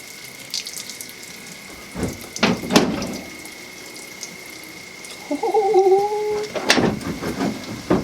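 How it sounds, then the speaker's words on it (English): Water is dumped out of a container during a camper shell build, with a few short splashes and then a longer gush of pouring, fairly close and without talking. "Dump all the water out."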